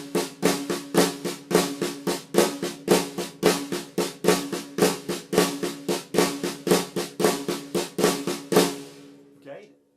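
Drums played as a steady stream of fast strokes, a 7-note phrase in 16th notes, with crisp evenly spaced hits in a repeating accent pattern, played alone for several seconds before cutting off.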